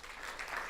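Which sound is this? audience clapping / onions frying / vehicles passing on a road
audience clapping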